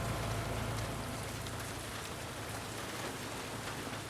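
Steady rain from The Last of Us Part II pours down in a dense, continuous hiss, with drops pattering on surfaces and a low rumble underneath, even and unbroken throughout.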